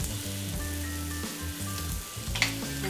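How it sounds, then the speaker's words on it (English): Mushrooms sauté in a little olive oil over high heat, giving a steady, loud, close sizzle throughout with no talking. "We're going to saute the mushrooms for about 2 to 3 minutes."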